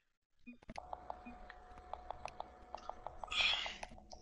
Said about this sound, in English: I hear Adlin going hard on his phone, just typing away